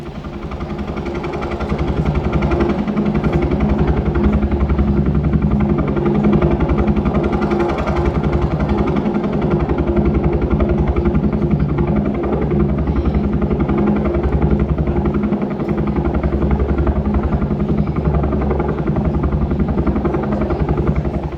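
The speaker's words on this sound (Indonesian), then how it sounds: "aku sudah mengorderkan helikopter untuk menuju Ancient Forest" A helicopter sound effect in a stage play runs as a steady, loud rotor and engine drone with a pulsing low throb, continuous for the whole stretch with no talk.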